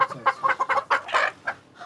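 Desi laying hens on a poultry farm cluck in rapid, close bursts, a busy run of overlapping calls from the flock that fades toward the end.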